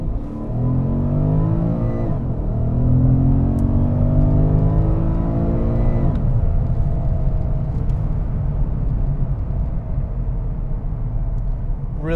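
A 2013 Porsche Panamera GTS with its naturally aspirated V8 revs hard through several rising sweeps, a loud close engine howl climbing and dropping as it accelerates, with no talking over it.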